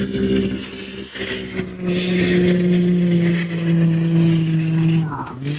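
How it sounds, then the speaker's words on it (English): A mud racing vehicle's engine running at an event in Orangeburg, South Carolina, a loud, steady smooth drone holding a constant pitch, with a brief dip and a slight change in tone near the end. "I think the engine sounds smooth"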